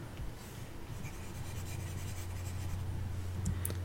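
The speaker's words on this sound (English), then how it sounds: "Let me just erase this." Eraser rubbing across a classroom board, a steady soft scrubbing with a few brief squeaks near the end, close and fairly quiet with no talking.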